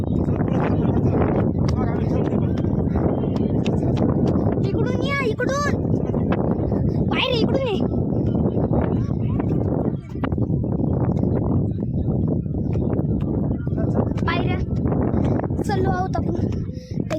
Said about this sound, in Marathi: हे बघा वारा खूप चालू